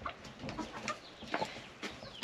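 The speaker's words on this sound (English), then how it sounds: "I think that chicken is done laying an egg." A hen clucks repeatedly after laying an egg, a fairly close run of short, uneven clucks with small pauses, ending in a louder squawk.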